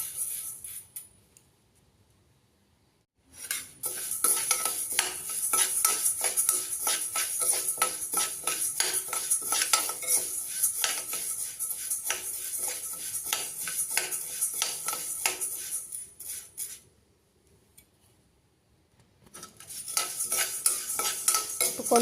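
Horse gram dry-roasting in a pan while a metal spoon stirs steadily, a dense rattling scrape that runs for long stretches, stops briefly, then starts again.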